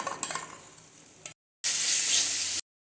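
Poppy seed and cashew paste stirred into frying prawn malaikari masala: scraping stir strokes over low sizzle, then a short silence and a loud, steady hiss of frying for about a second.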